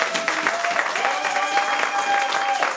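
A church congregation at a French-language service bursts into sustained applause to acclaim the Lord, dense clapping that fills the room with a few cheers and voices mixed in.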